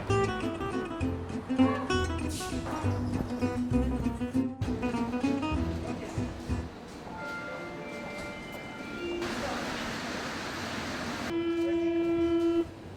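A metro train runs through an underground station, with rumbling wheels, tonal whines and a sustained horn or chime tone rising near the end, loud and reverberant, with no clear talk.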